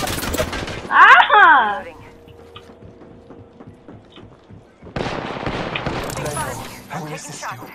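Video game gunfire: a short, sharp burst of shots cracks out near the start, then fades into quiet. A denser, noisier stretch of firing and action sounds follows for the last few seconds.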